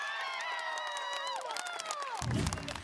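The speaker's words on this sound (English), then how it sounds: "The crowd is just loving it as well. Full house here for this matchup." A full-house esports arena crowd at a VALORANT Game Changers Championship semifinal cheers in a steady distant roar, with whistles and shouts rising and a burst of louder noise near the end.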